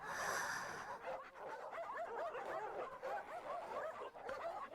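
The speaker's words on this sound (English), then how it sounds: "As her footsteps faded, the sound of growls grew louder." Hounds in the visual novel Mahoyo snarl and yip in a busy, overlapping chorus, fairly quiet and continuous, with a brief tonal sound at the very start.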